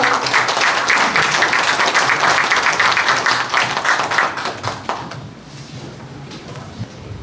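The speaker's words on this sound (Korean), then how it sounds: "힘찬 박수로 환영해 주십시오." Audience applause at a book launch, a dense burst of many hands clapping loudly for about five seconds, then fading to scattered claps and room murmur.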